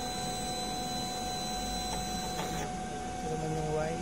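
An inkjet printer prints a nozzle check: a close mechanical whir with faint electronic tones and the carriage shifting in short sweeps, running steadily throughout.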